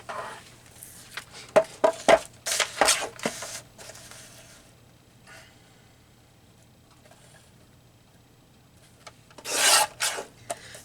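A paper trimmer slices out a collage image in quick, close rasping strokes, first as a cluster of short cuts, then a quiet pause, then a final longer cut.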